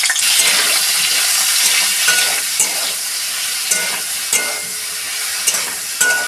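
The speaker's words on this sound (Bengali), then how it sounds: "সয়াবিন হালকা লাল করে ভেজে নেব।" Soybean chunks fry in mustard-free oil left after frying potatoes, a steady bright sizzle filling the pan, with occasional soft clinks and scrapes of a spatula stirring through the pieces.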